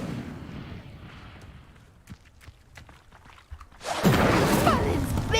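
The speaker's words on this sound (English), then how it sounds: "The flames make the pyre sink." Casting the Incendio fire spell on a pyre in Hogwarts Legacy sets off a sudden loud whoosh and roaring burn of flames that swells after a stretch of quieter game ambience with scattered footsteps and clicks.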